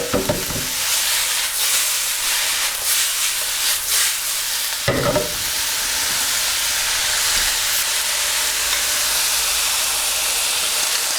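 Satay king prawns frying in a pan, a loud continuous sizzle and hiss with scraping stirs, and a sharp clatter near the middle before the steady frying carries on.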